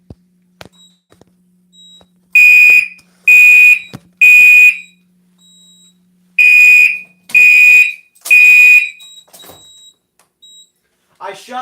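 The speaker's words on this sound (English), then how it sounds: "The panel hasn't even finished resetting and it went into alarm again." A fire alarm panel going into alarm, with its notification appliances sounding loud repeated horn-and-strobe bursts in two groups of three, each blast about half a second long, with faint beeps between them and a brief voice at the end.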